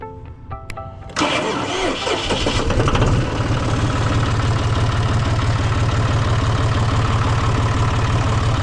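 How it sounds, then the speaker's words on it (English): A John Deere tractor engine cranks and fires after a second of quiet, then settles into a loud, steady diesel idle close by, with a brief throttle swell near three seconds, on a farm motocross track. "now we're jumping on the John Deere"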